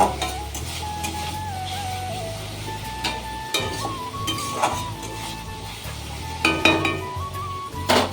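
Bitter gourd frying in a pan, a steady low sizzle with occasional stirring scrapes and light clinks of a utensil against the metal; no talking.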